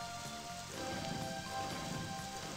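Rain in the video game Eternal Eden, a steady soft hiss of falling drops that swells slightly after the first second and holds evenly, with no one talking.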